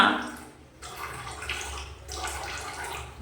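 Water running and splashing as something is washed by hand, a steady rushing stream with brief dips, close by and fairly loud.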